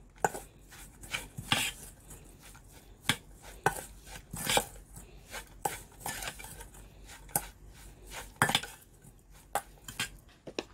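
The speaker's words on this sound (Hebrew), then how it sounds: "לערבב, מיקס" Apple-finger batter being mixed with instant pudding powder in a bowl, giving repeated clinks and scrapes of a utensil against the dish in an irregular rhythm, close and fairly quiet, with no talking.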